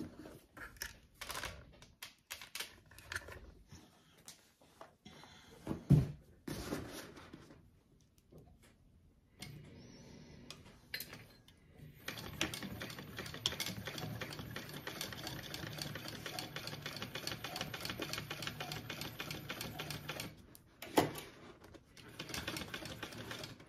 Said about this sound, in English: I'm gonna do another row of stitching right to the right of that line just for extra reinforcement